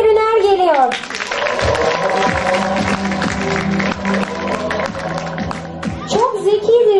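An audience at a kindergarten year-end show in Çatalca claps steadily for a child called onstage, the dense applause filling the middle of the clip while an amplified voice speaks before and after it.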